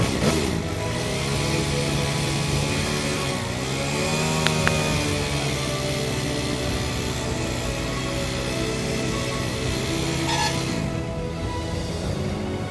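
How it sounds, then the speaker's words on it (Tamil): Motorcycle engine idling steadily through the full stretch after being started for an oil change service, with a constant mid-pitched drone and a slight rise in revs partway through, close and alone. "இப்போது வண்டியை ஒரு நிமிஷம் ஸ்டார்ட் பண்ணி ஐடியல் ஆர்பிஎம்ல ரன் பண்ண விட்டுறலாம்."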